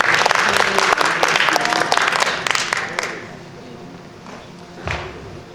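An audience claps for a student research presentation at an academic event. The applause is dense and lively at first, then thins out and fades after about three seconds, with a thump near the end.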